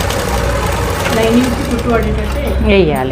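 A sewing machine stitches the lining of a blouse, running in a steady continuous whir close by while someone talks over it throughout.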